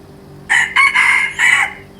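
A rooster crows loudly nearby in one drawn-out, broken call of several bursts, with a faint low hum beneath.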